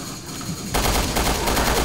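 Full-auto gunfire in Resident Evil Revelations 2 bursts in after a brief quieter moment, a loud, rapid continuous stream of shots that runs to the end.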